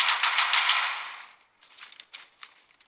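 Rapid burst of gunfire from Rainbow Six Siege gameplay, a dense rattling volley for about a second and a half, then a few scattered quieter shots and clicks trailing off.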